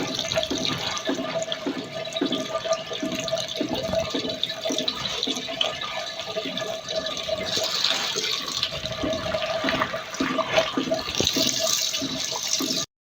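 Water runs steadily into a cooking pot on a home kitchen stove for spinach cooking, a continuous close splashing and trickling stream that fills the whole stretch with no talk over it.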